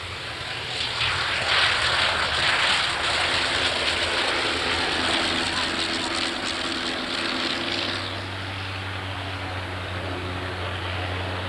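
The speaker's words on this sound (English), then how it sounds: "Yes, folks, that engine sounds good." Avro 504 RC model plane with a 110 hp Le Rhône rotary engine at an RC flying event, engine droning steadily and moderately loud before dropping to a lower, steadier hum partway through.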